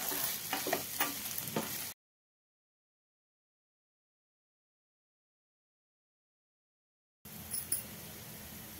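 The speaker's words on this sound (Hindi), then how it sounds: "शिमला मिर्च को भी मैं सेम प्रोसेस एक मिनट तक का भून लूंगी।" Finely chopped capsicum fries in a pan, giving a steady close sizzle with stirring scrapes that stops abruptly, falls to total silence for several seconds, then resumes.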